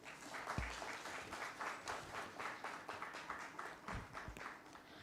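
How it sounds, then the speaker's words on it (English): Audience applause at a PolicyBazaar corporate event, a steady dense wash of many hands clapping that carries on for the whole stretch, fairly distant and even in level, with a couple of sharper low thumps near the start and toward the end. "A huge round of applause, everyone."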